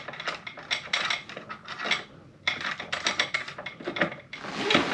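Bolts being threaded and hand-tightened on the front wheel of a KOMOTO M1100, giving close, irregular metallic clicks and ratcheting rattles in short bursts with a brief pause midway.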